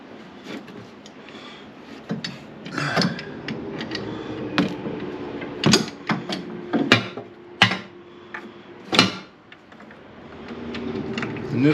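A socket wrench with a 6-point socket works a stubborn lug nut on a Ford Escape wheel, producing a series of sharp metallic clicks and knocks at irregular intervals over a low background.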